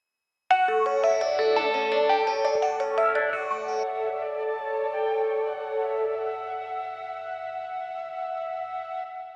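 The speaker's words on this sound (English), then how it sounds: "Then we have one more part to that, which is a high flute." A high flute part plays alone within a song's mix, sustained bright tones with an opening flourish of quicker notes that settle into a long held, echoing pitch.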